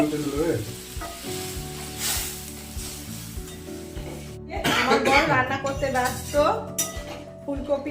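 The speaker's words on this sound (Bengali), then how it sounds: "এই যে আমার বর রান্না করছে ফুলকপি" Cauliflower frying in a pan at home, a steady loud sizzle with spoon scrapes and clanks against the pan as it is stirred, while someone talks and coughs over it.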